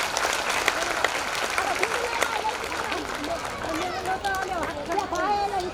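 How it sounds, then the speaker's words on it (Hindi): An audience at a Buddhist Dhamma assembly in Parbhani applauds steadily for a Buddha statue brought from Vietnam, a dense continuous clapping with a voice speaking over it. "उसके लिए तालियां बजा दीजिए।"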